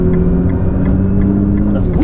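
A Nissan GT-R Nismo pulling onto the Autobahn, its engine a loud, steady low drone from inside the cabin with a rising harmonic whine near the end.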